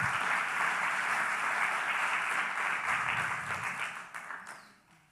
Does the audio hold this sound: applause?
yes